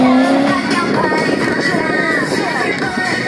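An Audi Quattro rally car of about 300 hp runs loud and close, its engine note rising and shifting through steady harmonics, sustained over the whole stretch with no speech.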